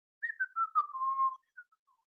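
A person whistles a short, wavering tune, a clear close whistle gliding downward in pitch over about a second, followed by a few faint trailing notes in otherwise quiet surroundings.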